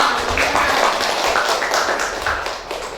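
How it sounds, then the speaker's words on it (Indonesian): Students in a classroom applaud a classmate during a lesson, a dense run of hand claps that stays steady and fairly loud for the whole stretch before tapering slightly at the end. "Tepuk tangan dulu buat Elva."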